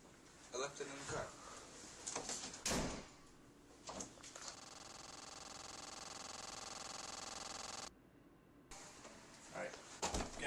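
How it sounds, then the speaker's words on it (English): A door is opened with scattered knocks and clatter, followed by a long, steady hissing stretch, while people talk around it. "Fucking door. Open it."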